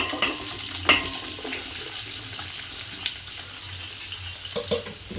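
About four hundred grams of onions for chicken dum biryani fry in a pan with a steady close sizzle, broken by a few sharp clinks and stirring scrapes; there is no talk.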